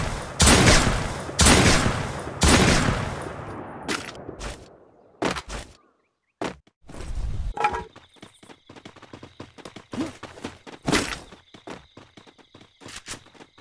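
Gunfire from a battle royale mobile game: several heavy close bursts up front, then scattered single shots and short volleys at varying distance, with no talk.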